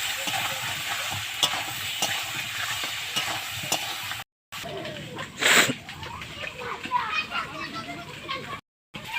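Potatoes being stir-fried with chili and salt in a pan: steady scraping and sizzling, with a louder burst midway and two short dropouts, voices faintly in the background.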